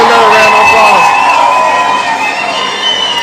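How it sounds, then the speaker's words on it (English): An audience cheering and shouting loudly as one, a dense, sustained roar of voices with scattered high cries that slowly fades over a few seconds. "let's give them another round of applause"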